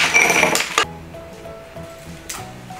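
Glasses clink together in a celebratory toast in a home kitchen, a bright cluster of chimes at the start, then a second lighter clink, with a quiet room behind.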